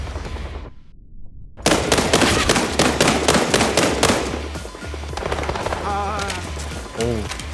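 Heavy, sustained machine gun fire in the tactical shooter World War 3, rapid loud bursts of automatic shots rattling almost continuously, with rumbling impacts and a short lull near the start.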